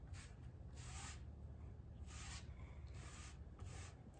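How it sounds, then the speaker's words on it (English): A cloth rubs finish onto a wooden drawer bottom, giving soft, quiet back-and-forth swishes of friction in a steady rhythm, close but faint. "there's definitely some friction going on as I'm trying to rub this"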